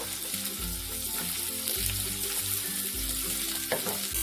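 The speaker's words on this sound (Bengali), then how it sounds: "পেঁয়াজটা আমি হালকা করে সতে করে নেব" Medium-cut onions, two of them, sautéing lightly in a hot pan for a paneer malai curry, with a steady close sizzle and occasional low stirring thumps, no talk.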